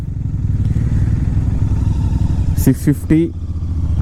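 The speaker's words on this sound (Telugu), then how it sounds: "royal Enfield interceptor 650" A Royal Enfield Interceptor 650 twin-cylinder motorcycle engine idles with a steady low throbbing pulse, close by, while a voice speaks briefly over it near the end.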